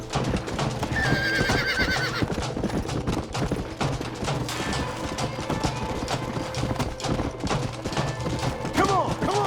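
Horses whinny and hooves clip-clop in Red Dead Redemption, a western video game, with several shrill neighs rising over steady hoofbeats and busy background sound throughout.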